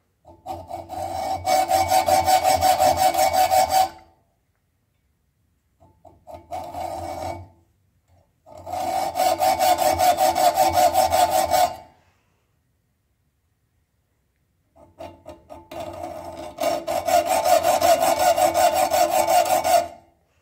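Slots being sawn into a guitar nut for a 6-string guitar, heard as loud, close rasping strokes in four bursts of steady back-and-forth cutting separated by short pauses.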